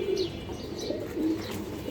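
Pigeons at a pigeon farm in Mirpur, Dhaka give soft, low cooing calls, two nearby coos rising over a continuous background murmur.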